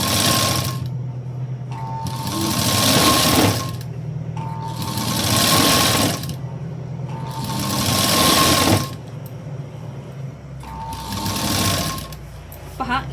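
A sewing machine stitches a neck binding strip onto a blouse with a square neckline in several loud bursts of rapid stitching, separated by short pauses, close by, as a voice talks throughout.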